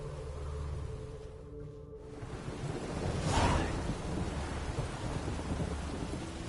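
A thunderstorm in The Witcher 3 rolls in with steady rain and a low rumble, then a single loud thunder crack swells in the middle before fading back into continuous rainfall, with no voices.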